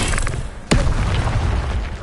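An Expelliarmus spell is cast in Hogwarts Legacy and lands as a single sharp, punchy blast with a booming impact partway through, over a steady wash of game ambience.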